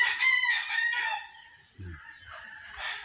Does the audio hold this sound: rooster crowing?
yes